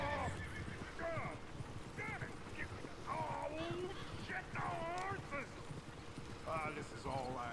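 Horses from Red Dead Redemption 2, heard as repeated whinnies and neighs with clip-clopping hooves, at moderate distance over a constant background of outdoor ambience.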